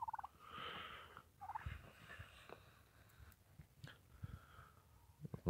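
Farm turkeys gobbling in several rattling bursts, near and moderately loud, mixed with wheezy breaths and snorts in a quiet outdoor pen.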